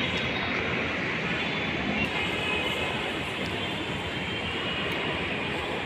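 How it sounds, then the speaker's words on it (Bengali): A metro train pulls into a station, a continuous broad rumble and roar of rail noise that stays steady and fairly loud from start to finish, with no clear talking over it. "আমার সময় আর বেশি নেই, এখন ট্রেন চলে আসবে।"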